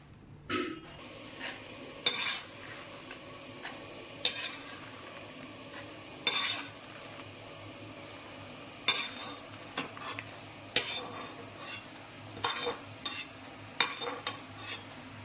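Dried red chillies fry in a pan while a spoon scrapes and stirs in irregular bursts over a soft, continuous sizzle, close and clear with no talking.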